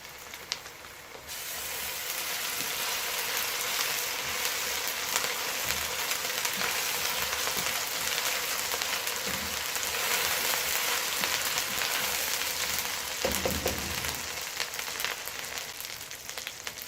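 Steady sizzling of golden onions frying in hot oil with ginger garlic paste for chicken biryani, continuous and close, with a few soft stirring sounds partway through.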